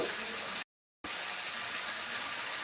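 Potato kurma sizzling in a pan with a pinch of asafoetida, a steady frying hiss broken by a short silent gap, then carrying on evenly.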